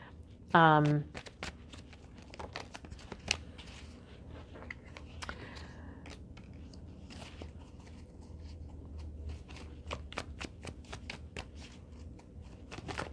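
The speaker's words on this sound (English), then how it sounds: "let's get one more card. One more card from the Rider-Waite deck." Rider-Waite tarot cards are riffled quickly in one burst near the start, followed by soft, scattered rustles, taps and slides as cards are handled and drawn. A person talks over the card sounds.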